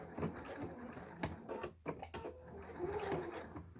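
A sewing machine stitches a vinyl wallet piece in short, quiet bursts of rapid mechanical chatter with a few brief pauses, close but soft.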